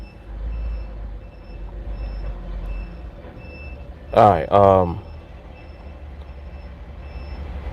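A large truck's backup beeps repeat faintly and evenly in the background while a low engine rumble runs underneath, broken midway by two loud, brief hissing bursts like air brakes; a person speaks briefly.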